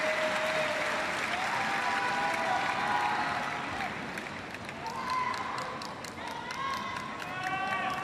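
Crowd applauding at a Paralympic boccia match in the South Paris Arena, a sustained wash of clapping that swells and eases, with faint bright whistle-like tones near the end.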